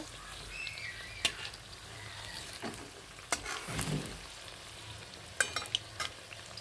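Coriander-leaf pakoras fry in hot oil with a soft, steady sizzle, broken by a few sharp clinks and scrapes; fairly quiet and close, nobody speaking.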